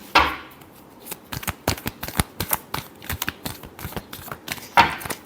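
Tarot cards are shuffled by hand, giving a series of sharp, close riffling snaps and taps in irregular bursts, with a louder flurry at the start and near the end.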